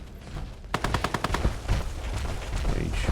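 Gunfire in the Fallout 4 video game: a rapid burst of about ten evenly spaced automatic shots, loud and close, followed by a few scattered reports and a lingering rumbling decay.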